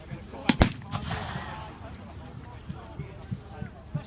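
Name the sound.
medieval artillery guns firing at reenactment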